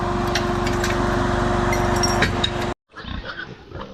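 Pigs on a country farm, heard as a dense, loud, continuous mix of grunting and snorting with a steady mechanical hum beneath, then a sudden brief break followed by quieter, scattered oinks and rustling close by.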